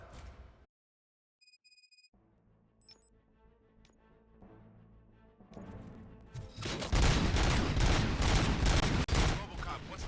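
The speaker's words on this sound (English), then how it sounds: "Gunshots? What's going on?" Gunfire in the video game RoboCop: Rogue City, a loud dense burst of shots that erupts midway and keeps up as rapid, overlapping bangs after quieter game sounds and tones.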